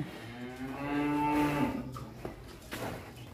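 A jumbo sacrificial bull weighing over one ton lowers a long, deep moo that swells and fades, heard up close, followed by quieter farmyard shuffling.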